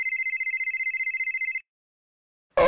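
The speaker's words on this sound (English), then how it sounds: "Oh, a phone call." A telephone rings with a rapid electronic trill, loud and close, for about a second and a half, then silence before a burst of other sound.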